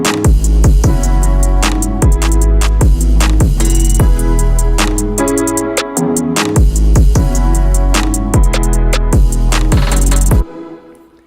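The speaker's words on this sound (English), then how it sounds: "All together, the main chords and melody and the drums, they sound like this" A full hip-hop beat, with chords, melody and drums playing together in a dense, steady groove whose bass hits drop in pitch. There is a brief break near the middle, and the music cuts off just before the end.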